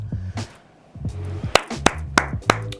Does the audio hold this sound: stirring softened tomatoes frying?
no